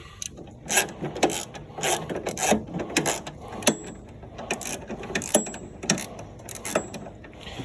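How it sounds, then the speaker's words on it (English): A ratchet being cranked to lift the deck of a Snapper riding mower, giving steady rapid clicking and metallic clattering in uneven bursts, close and fairly loud, with no talking. "I'm just gonna keep on cranking here"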